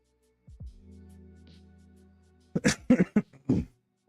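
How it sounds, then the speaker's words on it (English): A low, drawn-out throat-clearing groan, then a quick burst of several sharp coughs close to the listener, in an otherwise quiet room. "Apologies for my coughing and throat clearing, by the way."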